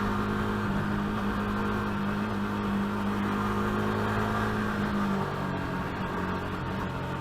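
A motorcycle engine revs hard at open throttle while weaving through traffic, a loud steady drone with a sustained low tone that dips near the end, heard alone at close range.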